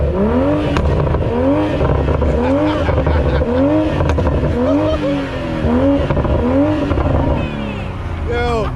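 A Toyota MK5 Supra with a full titanium exhaust revs hard again and again in a steady rising-and-falling pattern, loud and close, with voices mixed in.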